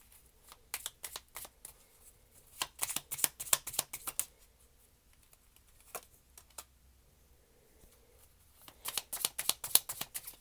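Tarot cards being shuffled close up, in quick riffling bursts of crisp card flicks separated by quiet pauses, soft and with no talking.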